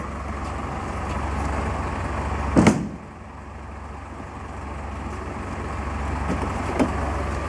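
The motor of a large street vacuum cleaner with a wheelie bin at the back runs steadily with a loud, constant low rumble and broad hum, broken by one brief knock midway.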